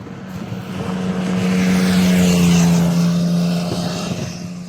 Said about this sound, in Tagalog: Dumarating ang motor. Overspeeding.